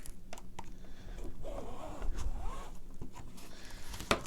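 Scissors or a blade cut through a recycled cardboard box, a soft rasping scrape with brief snips and small clicks, faint and close, with a sharper tap at the end.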